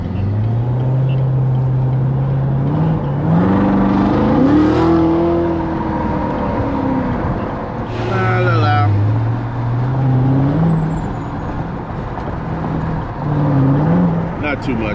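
Chevrolet Corvette Z06 engine revving up through a quick pull on an open stretch, a rising engine tone climbing twice and dropping back, heard from inside the car with talk over it.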